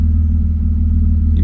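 A BMW E36 convertible idling right after being started, a loud, steady low engine rumble close by with no talking.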